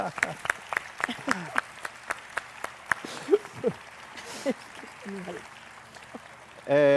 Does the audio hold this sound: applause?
yes